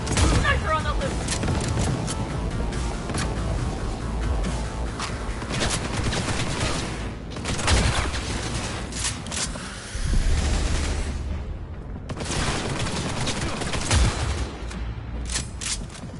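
Sniper gunfire in the video game Cyberpunk 2077, dense rapid shots and booms over a constant loud backdrop of action noise, with brief pauses around the middle before the firing resumes.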